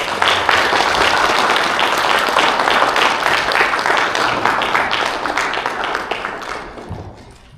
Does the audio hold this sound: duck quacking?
no